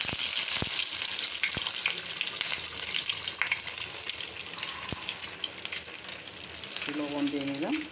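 An egg fries in a pan with a constant crackling sizzle, punctuated by a few sharp clicks and scrapes of a utensil, and a brief tonal squeak near the end.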